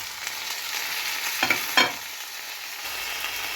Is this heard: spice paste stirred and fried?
yes